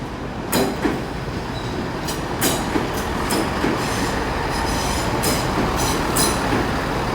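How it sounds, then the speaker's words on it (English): A Great Western Railway service to Penzance moving at Exeter St Davids station, a continuous heavy rumble broken by sharp clicks and squeals from the wheels on the rails, with no voices. "going out now will be the Great Western Railway service to Penzance"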